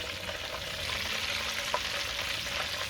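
Breaded Wiener Schnitzel frying in a pan over an outdoor Trangia camping stove, a steady close hiss and crackle of hot fat with a faint pop partway through.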